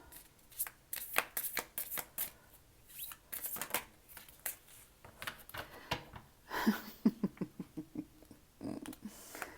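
Tarot cards are shuffled by hand in a close, quiet setting, giving rapid bursts of crisp flicking and riffling broken by short pauses, with no voice over them.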